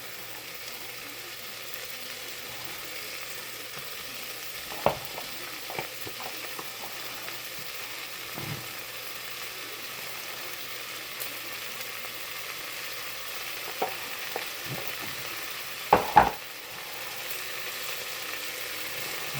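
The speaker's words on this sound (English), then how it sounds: "And now I'm going to start adding in my hot sausage." Hot sausage frying in a hot pot with onions and garlic gives a steady, fairly quiet sizzle throughout, broken by a few stirring clatters near the middle and end, with no talking.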